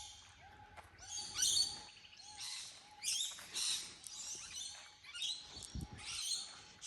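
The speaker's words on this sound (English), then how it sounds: "So we get all sorts of birds here" Birds call from the trees of a lower garden at a wildlife refuge: bright repeated chirps and warbling phrases in several bursts, fairly close, over a soft outdoor background with a steady faint tone.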